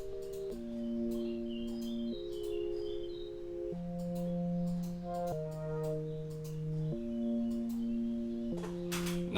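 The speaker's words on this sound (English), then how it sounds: "So the sine is coming from the right, and the triangle is coming from the left." Synthesizer sine and triangle waves play a slow sequence of sustained pure-toned notes that change pitch every second or two, smooth and even, with faint high ticks scattered above.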